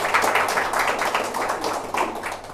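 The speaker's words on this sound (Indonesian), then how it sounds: "Tepuk tangan buat beliau." Brief applause from an audience at a talk welcoming a Master Trainer, a short burst of clapping that rises and dips over a couple of seconds.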